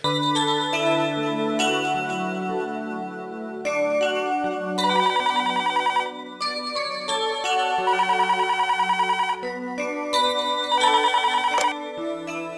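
A telephone ringtone plays a loud, repeating electronic melody in bursts for several seconds inside a home, indoors with no talking over it.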